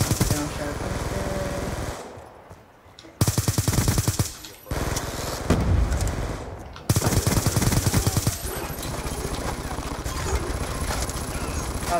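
Rapid automatic gunfire in Black Ops 2 multiplayer, with several loud sustained bursts of machine-gun fire separated by brief gaps, dense and close, with a player's voice talking faintly at times.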